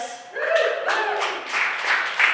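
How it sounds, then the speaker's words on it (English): Comedy club audience clapping in a burst of several seconds, fairly close and steady, with a voice speaking over the applause. "clap for us"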